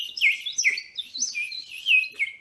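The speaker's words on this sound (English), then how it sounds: "a bird flies into the kitchen, startling Mrs. Kapoor" A bird chirping in a small indoor kitchen, a quick series of bright, rising tweets, clear and close, with no other sound behind them.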